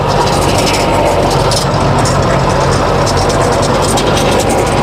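A Birbal rotavator running through a field gives a loud, unbroken engine drone with dense mechanical rattling that holds steady from start to finish.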